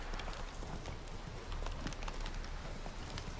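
The horse Roach in The Witcher 3 moves at a slow canter. Steady, soft hoofbeats thud in an even rolling rhythm over constant low outdoor noise, faint and continuous.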